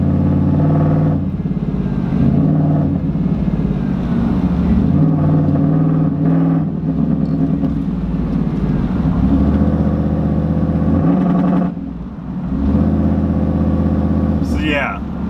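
A cammed 5.3 Silverado pickup engine running lean rumbles steadily with a choppy idle and revs, someone talking over it at times, with scattered exhaust pops breaking through.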